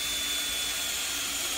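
A power drill spins out brass screws from a door hinge, a steady high-pitched whirring motor drone held throughout the brief moment, close and fairly loud with no talking.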